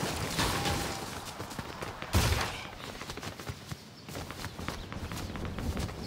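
Gunfire in the video game Fortnite comes as a run of quiet, sharp shots and clattering bursts scattered through a dense wash of game noise, with one louder blast midway.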